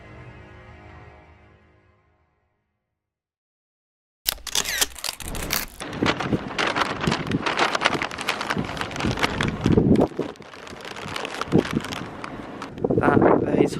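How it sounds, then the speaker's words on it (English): Strong wind buffets the microphone outdoors during a ghost hunt in York, a loud rumbling roar that bursts in after a brief near-silent gap and keeps gusting, with people talking underneath. "it was very windy up there, so it's really hard to hear what we actually are saying"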